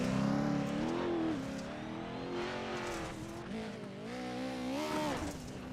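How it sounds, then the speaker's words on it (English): A Pro-4 off-road race truck roars close by while racing over jumps on a championship off-road track, its engine note climbing and falling continuously through gear changes and throttle lifts. "Joey Herbie a little bit sideways over the jumps"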